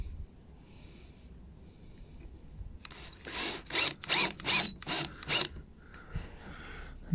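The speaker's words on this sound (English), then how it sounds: "I'm just going to use a little drill bit first to try and get a centre" A power drill with a small brad point bit bores a pilot hole into a wooden chair, giving a burst of several short, close whirring pulses after a quiet start.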